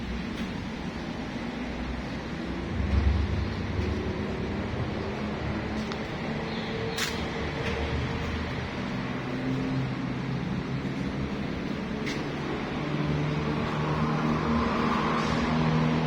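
A steady mechanical drone from an old engine powering a rice mill, running continuously with low throbbing tones and occasional faint clanks over the constant hum.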